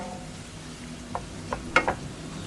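Old-style Thai garlic chicken frying in oil with a little sugar, stirred in the pan: a soft continuous sizzle broken by a few short scrapes and clinks of the utensil near the end, no talking.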